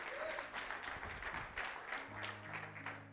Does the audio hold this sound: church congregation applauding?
yes